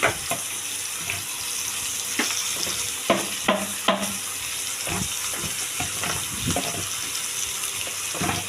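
Onions with salt and tomato cooking in a pan for a light mutton curry, a steady sizzle of frying under repeated scraping stirs of a spoon against the pan, with no talking.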